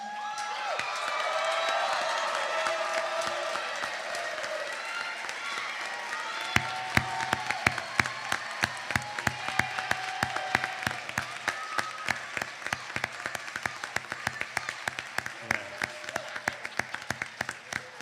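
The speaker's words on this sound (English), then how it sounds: "And as you soak up the applause" Graduation-ceremony audience applauding after the tassel turn at a high school diploma recognition event, a dense wash of clapping with scattered cheers, steady at first, then turning into louder, sharper individual claps toward the end.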